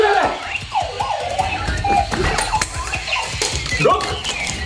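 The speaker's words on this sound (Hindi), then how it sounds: "ऐसा कैसे कैसे अलार्म क्लॉक्स आने लगे यार, सोने भी नहीं देते" A novelty gadget alarm clock blares a wailing, siren-like electronic alarm that rises and falls repeatedly and fills the whole stretch, loud and close, with a voice speaking over it.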